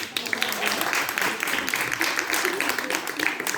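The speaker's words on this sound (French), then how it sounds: "on les applaudit bien fort" Enthusiastic audience applause at an association's fifteenth-anniversary event, dense sustained clapping filling the room, fairly close and even throughout.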